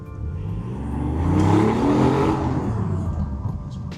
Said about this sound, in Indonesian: Kita coba cari jalan kosong dikit, kita gas ya